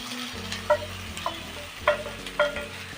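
A spoon stirs sautéed capsicum and onion into a spiced mixed vegetable sabzi in a pan, scraping and clinking in four distinct knocks over a low sizzle, with no talking.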